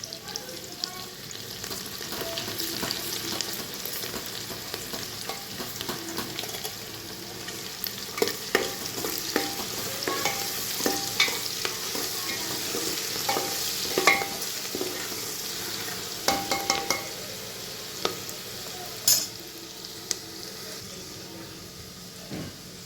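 Garlic and cumin paste fries in a hot pan, giving a steady close-up sizzle broken by frequent scraping clicks and taps of a spoon stirring against the metal, with no talk.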